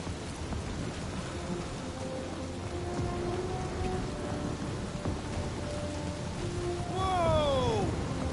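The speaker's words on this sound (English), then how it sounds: "That is some really crazy lightning out there!" A thunderstorm with heavy rain in Guardians of the Galaxy, a steady loud downpour with low rumbling that swells toward the end under a faint voice.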